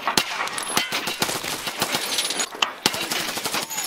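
Rapid bursts of video game gunfire crackle close and loud, a dense string of sharp shots with brief gaps and metallic clinks between volleys.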